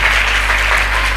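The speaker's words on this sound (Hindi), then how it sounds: "जोरदार तालियां बजाएंगे अपने खुदावंद के लिए।" A congregation at a Christian worship service claps loudly and steadily for the Lord, dense sustained applause filling the room without pause and with no voices over it.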